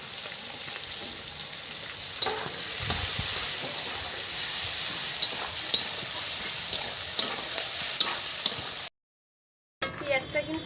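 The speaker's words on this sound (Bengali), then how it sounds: "ফোড়নটা আমার হয়ে গেছে, এবার আমি পেঁয়াজ দিয়ে দেবো" Chopped onion with green chillies frying in hot oil over a cumin tempering for a meat and ash gourd curry: a loud, even sizzle with repeated stirring taps and scrapes, briefly cutting to silence near the end.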